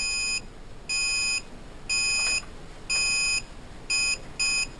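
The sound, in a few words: bag sealer machine beeping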